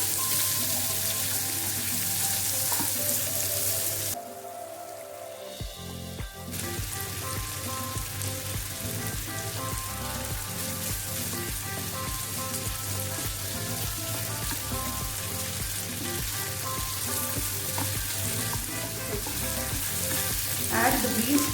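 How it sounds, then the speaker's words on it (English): Marinated shrimp frying and sizzling in a hot pan, a steady crackling hiss that runs close and loud throughout, briefly dipping before resuming. "Add the marinated shrimp and fry for 2 minutes."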